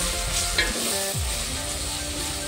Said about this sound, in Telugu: అల్లం వెల్లుల్లి పేస్ట్ బాగా ఫ్రై అయింది కదా